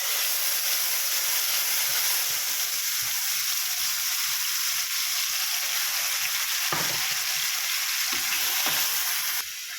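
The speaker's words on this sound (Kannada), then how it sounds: "ಹಸಿ ವಾಸನೆ ಹೋಗೋವರೆಗೂ ಇದನ್ನ ಎಣ್ಣೆಯಲ್ಲಿ ಫ್ರೈ ಮಾಡ್ಕೋಬೇಕು." Ground onion, tomato and green chili paste fries steadily in hot oil in a home kitchen, a continuous loud sizzle and hiss with a couple of faint stirring knocks near the end.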